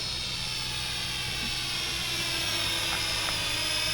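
A GTeng T905C beginner quadcopter drone flies close by outdoors, its rotors giving a steady, continuous high-pitched whine with a buzzing hum beneath, holding fairly even loudness throughout with no talking.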